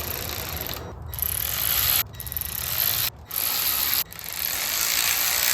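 A ratchet runs bolts down lightly on a Lexus LS430 during restoration work, giving a fast continuous clicking of the pawl in several long strokes separated by brief pauses, close and fairly loud with no voices.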